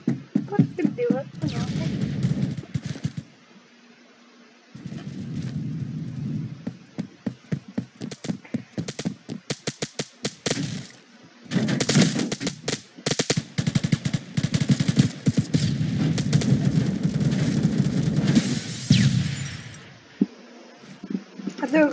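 Gunfire and a grenade in the video game Phantom Forces, rapid automatic bursts and single shots in loud clusters separated by short pauses, with players talking over the fighting.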